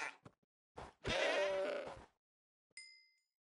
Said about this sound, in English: Oh, it's a billy goat.